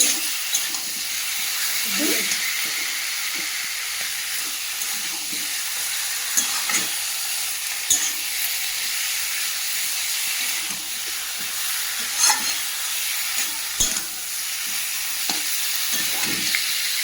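Meat added to spice paste that has released its oil sizzles loudly in a pan, a constant close frying hiss with repeated scraping stir strokes and spoon knocks throughout.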